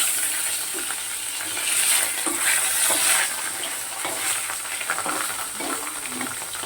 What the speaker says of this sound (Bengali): দেখো কড়াই তেল গরম হয়ে গেছে, মাছ রান্না করছি